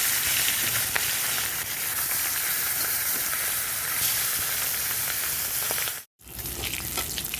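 Hilsa fish head frying in hot mustard oil in a kadai: a close, steady, dense sizzle with crackling and spitting that runs without a break, then stops for a moment and resumes.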